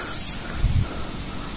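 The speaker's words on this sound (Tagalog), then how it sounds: "napakalakas ng hangin dito" Strong wind blows across an open onion field as a steady broadband rush with a brief low buffeting gust in the middle.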